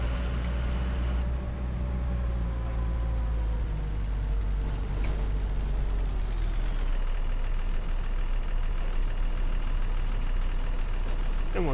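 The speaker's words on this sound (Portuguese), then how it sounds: "Esse ônibus aqui tá com um som bem bonito" A bus engine runs steadily in Proton Bus Simulator on a rural Minas Gerais map, its loud continuous drone rising in pitch as it revs, with an air-brake hiss partway through and no traffic around.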